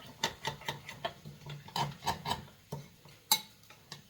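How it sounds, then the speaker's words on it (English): Coconut milk paste stirred until dissolved, a quiet rhythmic ticking of a spoon tapping and scraping a bowl, repeated every fraction of a second, close and faint. "So we're just going to mix this out"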